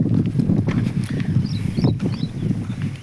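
Bullocks walk on a farm during sowing season, their hooves clopping in a close, uneven rhythm over a low, rumbling background.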